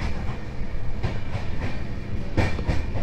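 Kulik Express passenger train (13053) rolling out of Bardhaman, heard from inside the coach as a steady rumble with rhythmic clickety-clack of wheels over rail joints.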